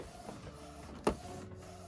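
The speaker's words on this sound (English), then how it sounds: "the printer is printing that fast." A McLaud DTF roll printer working through a 12-inch roll gives a steady low mechanical whir, with one sharp clack partway through, close and moderately loud.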